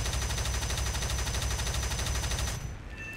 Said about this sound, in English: To destroy an immobile target, you need to aim at it and shoot.